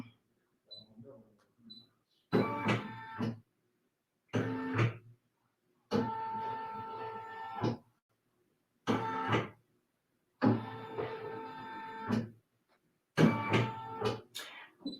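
Embroidery machine tracing the outline of a patch design, its motor running in several separate bursts of steady mechanical whirring with short quiet gaps between them, loud and close.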